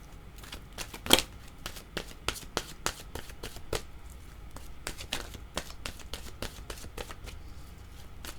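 Oracle cards being shuffled by hand, a rapid run of crisp riffling flicks and soft papery slaps close up, with one sharper snap near the start and no talking.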